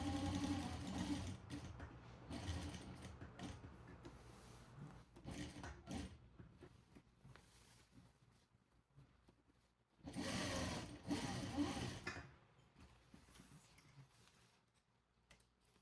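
A sewing machine stitches elastic onto churidar-style cigarette trousers, running in close, steady bursts of rapid stitching separated by quieter pauses, with two long runs standing out.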